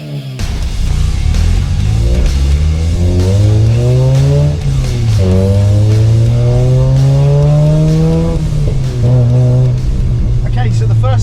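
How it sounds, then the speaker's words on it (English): Mazda RX8 with a 13B rotary engine and a very loud exhaust, revving hard from inside the car; the engine note climbs and falls in long sweeps, loud and continuous, with talk over it. "it is incredibly loud in here. That exhaust is absolutely bonkers."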